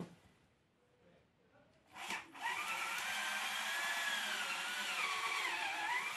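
A power drill fitted with a long bit bores into a thick wooden log, and sawdust builds up in the hole. After a few quiet rustles, a loud, steady, grinding whir starts and holds close up, rising and falling slightly in pitch.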